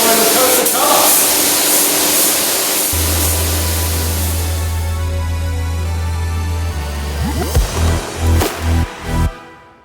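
A spray gun lays a light final colour coat on Ford Ranger Wildtrak wheel arches, a loud continuous hiss of spray with a steady compressor hum beneath, ending in a few short bursts.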